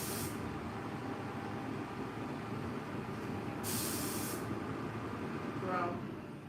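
Heavy truck rumbling nearby with a sharp burst of air brake hiss partway through, the low engine drone steady throughout.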